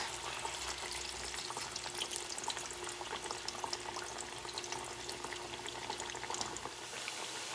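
Ripe plantains fry in hot oil with a steady, dense crackle and sizzle of fine pops, close and continuous, with no voices.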